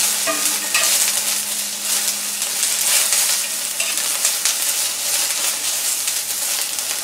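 Onions frying and browning in a pan, cooked for liver and onions, give a steady dense sizzle that holds loud and close throughout, with occasional stirring scrapes and no talking.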